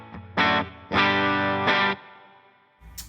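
Electric guitar chords on the bridge pickup ring out in short bursts through an HX Stomp amp model, with a crunchy tone and brief pauses between strums.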